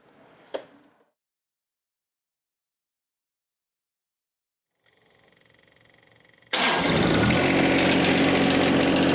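After a brief click and several seconds of silence, a John Deere 1025R compact tractor engine comes in quietly, then jumps to a loud, steady, close roar as it is throttled up.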